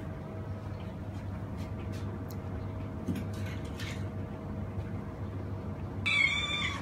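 A cat sits beside a home solar power system with batteries and a 17-kilo washing machine. Over a steady low electrical hum and faint clatter, it lets out one short, clear meow near the end.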